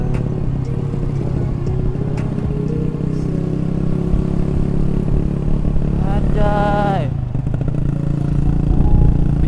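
A small motorcycle carries a rider and a passenger, its engine running loud and steady up close, with a brief rising whine partway through.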